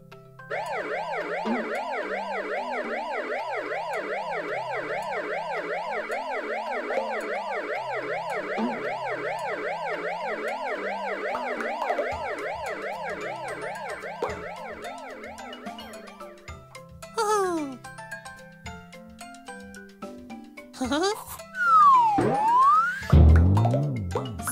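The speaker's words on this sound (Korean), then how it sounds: "구급차" A cartoon ambulance siren wails in a rapid, steady two-tone cycle for about fifteen seconds, then gives way to playful boing and slide sound effects.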